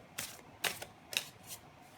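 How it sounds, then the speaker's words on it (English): Tarot cards are drawn from a deck one at a time: four short crisp slaps and flicks, close and fairly soft, spaced about half a second apart with quiet between them. "So I'll pull a few more cards here."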